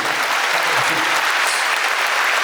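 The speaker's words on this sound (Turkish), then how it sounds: "Efendim alkışlar." Concert audience giving loud, dense applause, a continuous close wall of many hands clapping with a faint murmur of the crowd mixed in.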